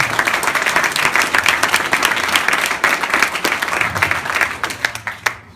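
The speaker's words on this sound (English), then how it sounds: "Please join me in a round of applause again for Ron." An audience at a Wall of Fame ceremony breaks into sustained applause, many hands clapping in a dense, loud wash with sharper individual claps, tapering off toward the end.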